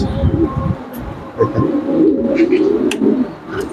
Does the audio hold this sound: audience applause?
no